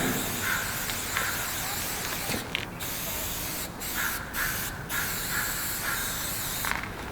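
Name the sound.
spray paint can spraying graffiti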